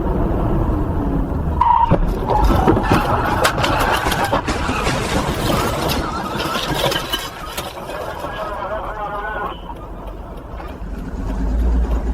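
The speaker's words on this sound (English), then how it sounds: "Screeching tires and the first impact are heard, followed by another series of crashes and the clang of metal." A car crash on a US road: tires screech loudly amid engine noise and rough mechanical clatter, with impacts and clanging metal, a chaotic, sustained burst of vehicle sounds that trails off then rises again.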